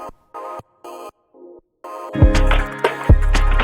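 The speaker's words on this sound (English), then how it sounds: "a pad that's going ham because of the FX modulator that I told you" A synth pad run through an FX modulator plugin, heard alone: short pulsing chopped chords give way to a loud, dense, churning wash of modulated sound with deep low swells and sweeping bursts.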